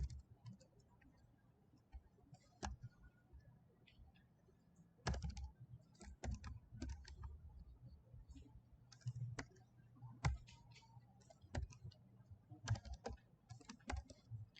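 Spreadsheet formula typed on a computer keyboard, with sporadic key clicks and a few louder strikes spread irregularly over about fifteen seconds, fairly quiet and close, with no talking.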